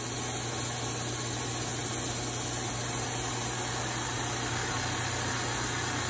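A 1998 Fadal VMC4020HT CNC vertical machining center with its spindle running at 1,000 RPM, giving a steady, even mechanical hum with a constant tone and no talking.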